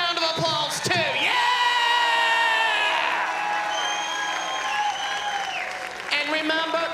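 A crowd claps and cheers with whoops and shouts at the Miss Island Queen 2025 pageant show, loud and sustained, with a voice rising above the noise.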